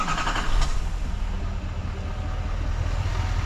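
A diesel 2500 pickup truck with DEF idles in a shop while warming up after an oil change, giving a steady, moderate low rumble. One faint brief clatter comes near the start.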